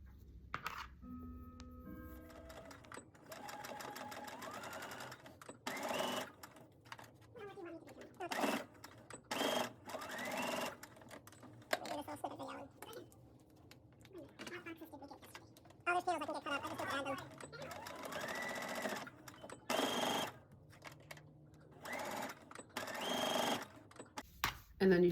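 A sewing machine stitches the sides of a tote bag in repeated short bursts of rapid whirring, with pauses between runs and quiet handling noises in the gaps.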